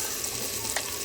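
Red onions sauté in a clay pot for beef curry, a steady close hiss and crackle of sizzling oil with no pauses.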